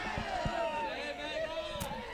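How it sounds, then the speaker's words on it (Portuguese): A football crowd in a stadium during a match between Coritiba and Ipiranga, a sustained wavering crowd roar with drawn-out booing tones, distant and continuous beneath a commentator's voice. "apenas a vaia do torcedor do time do Ipiranga"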